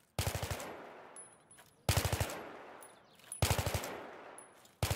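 Repeated machine-gun bursts fire in a shooter video game, four sharp volleys each trailing off over a second or so, loud and close with no talking.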